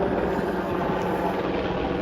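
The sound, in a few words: helicopters flying overhead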